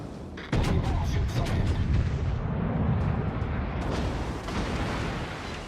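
Naval guns fire in the World of Warships video game: a sudden heavy boom opens into a loud, sustained rumbling roar with scattered sharp cracks that slowly fades.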